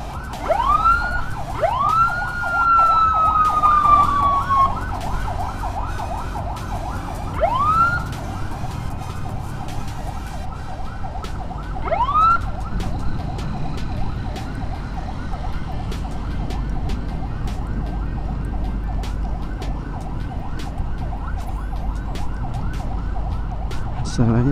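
An ambulance siren wails continuously during a road escort on a badly broken street, its repeating rising-and-falling tones loud and close, with traffic and vehicle noise beneath.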